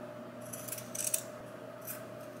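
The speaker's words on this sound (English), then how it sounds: "I'm just gonna take my scissors when I get close to that opening and just, and then where this other side is, I'm just clipping down" Scissors clip through fabric for reusable paper towels, a few quiet, crisp snips in a small cluster, then one more after a short pause in a quiet room.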